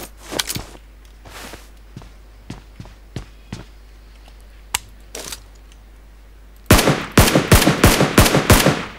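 Gunfire in PUBG Lite rings out as scattered single shots and short bursts, then a loud rapid burst of automatic fire closes the stretch, close and sharp with no talk.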